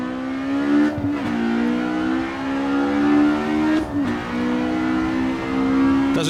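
A 1960s race car engine in a Riverside 200 sim racing game screams at high revs, dropping sharply at each of three gear shifts before climbing again, loud and continuous.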